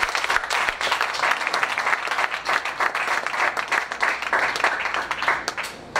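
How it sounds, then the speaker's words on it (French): A church congregation applauds the Lord with steady, loud clapping from many hands, continuous and dense throughout, with a few scattered voices mixed in. "On acclame le Seigneur"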